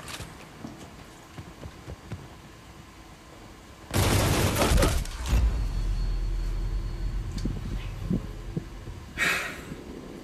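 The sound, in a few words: gunfire in the video game Medal of Honor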